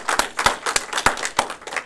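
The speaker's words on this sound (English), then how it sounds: "Can you give yourselves a round of applause for being here?" Workshop attendees give themselves a round of applause, with sparse, close individual claps in a loose, uneven rhythm and no talking.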